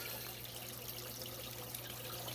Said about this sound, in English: it's definitely cold water going into the tank